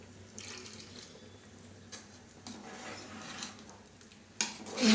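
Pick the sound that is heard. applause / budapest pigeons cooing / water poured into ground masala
water poured into ground masala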